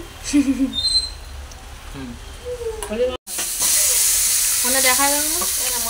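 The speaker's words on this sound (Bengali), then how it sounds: "কাতলা মাছের মাথাগুলো ভেজে নেওয়া হচ্ছে।" Katla fish heads frying in hot oil for a pumpkin and pui greens ghonto, a steady crackling sizzle that swells louder after a brief cutoff, with faint clatter of stirring in the pan.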